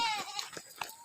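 A goat on a hillside gives a short, quavering bleat, followed by a few faint outdoor knocks and rustles.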